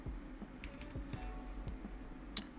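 Typing on a computer keyboard, a quiet run of soft, irregular key taps up close, with one sharper click near the end and no talking.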